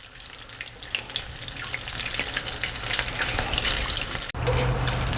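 Battered jalapeno poppers deep frying in hot oil give off a steady crackling sizzle, moderately loud and close, with a brief clunk near the end.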